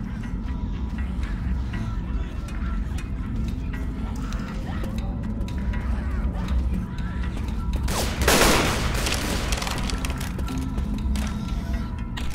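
AK rifle gunfire in Left 4 Dead 2 versus mode comes as rapid clicking and clattering shots over a low game hum, with a louder burst about two-thirds of the way in.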